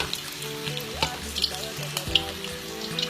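Samosas frying in oil in a pan, a close, steady sizzle broken by a few soft clicks and knocks as they are turned, with no voices.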